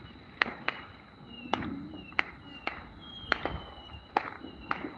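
Fourth of July fireworks going off around a neighborhood, with about nine sharp cracking bangs at irregular intervals over a faint background hum, some fairly close and loud, others more distant.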